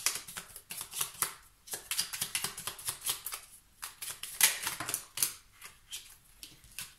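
Oracle cards shuffled by hand, a soft close riffling and flicking with irregular bursts of card slaps, fairly quiet throughout.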